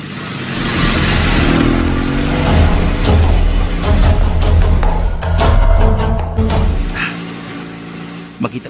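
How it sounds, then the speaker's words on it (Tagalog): Motorcycle engine starting and revving loudly as a radio drama sound effect, a sustained roaring drone with rising and falling throttle, voices and other effects layered over it before it cuts off near the end. "Pandaron ko motor."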